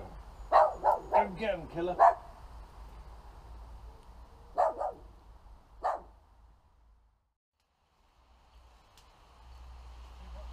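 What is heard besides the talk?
dog barking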